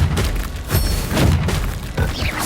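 Spell explosions from Bombarda and Confringo in the Hogwarts Legacy video game, a dense run of loud booming blasts and thuds close together with crackling debris, continuous and without pause.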